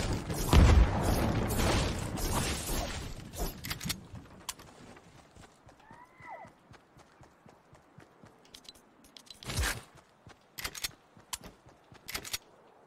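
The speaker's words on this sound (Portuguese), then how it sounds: "Tô jogando bomba." Bomb explosion in a squad shooter video game: a loud, heavy blast at the start, rumbling before fading, then later sharp hits and clattering effects.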